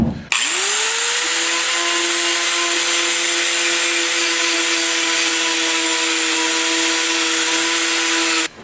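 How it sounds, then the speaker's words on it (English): A rotary tool spinning sandpaper rolls against an Edelbrock aluminum intake manifold for an AMC engine, a loud steady high whine with a constant pitch and gritty hiss that starts and stops abruptly. "I'm going to run some different grit sandpaper rolls across the areas I couldn't get in with the belt sander now"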